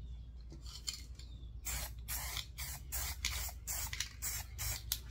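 Spray paint can applying a Wraith camo pattern, giving a series of short, close hissing bursts, about eight in quick succession, with a faint hum underneath and no talking.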